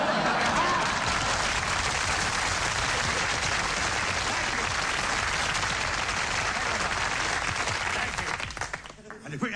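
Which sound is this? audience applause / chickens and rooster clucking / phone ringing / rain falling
audience applause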